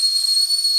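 A kettle whistling, a loud, steady high-pitched tone held without a break for under a second, heard alone with no talk.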